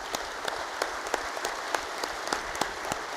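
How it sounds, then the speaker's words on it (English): Audience applause for Dr. Clay Marsh of WVU at a 2018 State of the State address, a steady, dense wash of many hands clapping with a few sharper claps standing out, sustained and moderately distant. "we've got to give him a big round of applause"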